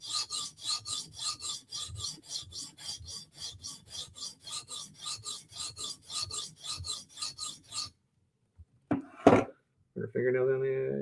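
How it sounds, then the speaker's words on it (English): A knife edge is stroked against a sharpening stone at a high angle in a steady series of rasping passes, about twenty rhythmic strokes up close, followed by a pause, a few clunks and someone talking. "you're just sharpening at a high angle"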